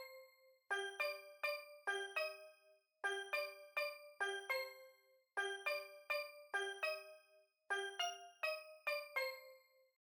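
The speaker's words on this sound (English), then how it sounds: "So for the other part of the melody, I added these bells." Simple catchy bell counter-melody from a beat, bright bell tones in repeating four-bar phrases of quick evenly spaced notes, clean and alone with no other instruments.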